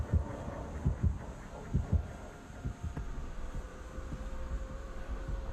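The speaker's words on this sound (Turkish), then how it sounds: "Anında kalp atışı artmaya başladı." The killer's terror-radius heartbeat in the horror game Dead by Daylight beats in deep, doubled thuds at a regular pace, loud at first and then fading into a low, murmuring drone with no voices.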